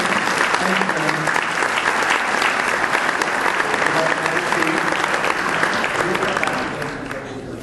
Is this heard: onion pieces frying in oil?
no